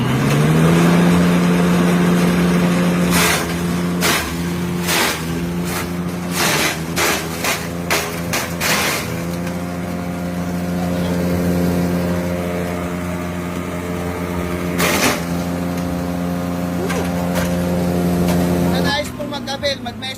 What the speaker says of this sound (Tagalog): Detestingin po natin ngayon yung ating banana vegetable cutter machine.